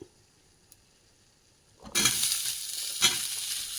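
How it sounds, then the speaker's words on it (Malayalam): Asafoetida and spices for a rose apple pickle hit a hot pan after near silence, bursting into a loud sizzle that carries on with stirring, plus a sharp spatter partway through. "കായപ്പൊടി ഇതെല്ലാം കൂടി ഇട്ട് ഇളക്കണം"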